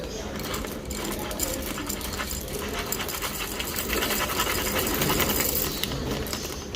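An electric coffee grinder grinds coffee beans for a filter brew, giving a steady, close, continuous motor whir with a gritty buzz that holds for the whole stretch.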